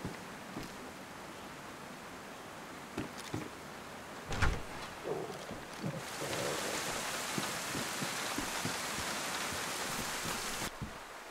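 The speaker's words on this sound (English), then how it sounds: "This rain's not gonna stop." Steady video game rain hisses throughout, with a few soft thuds early on. The downpour swells into a louder, denser wash partway through and keeps going.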